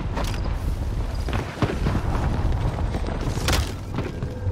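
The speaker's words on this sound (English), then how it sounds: "Allied cluster strike arriving." Cluster strike bombs going off in Warzone 2, a dense run of booming blasts and thuds that rumble one after another over several seconds, loud and continuous, with a sharper burst near the end.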